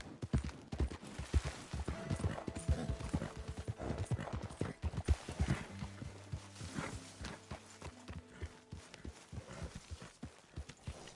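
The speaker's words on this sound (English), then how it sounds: "Hey, get that horse out of here." Horse hooves clip-clop irregularly on hard ground, with a brief whinny and shuffling steps, from the game Red Dead Redemption 2.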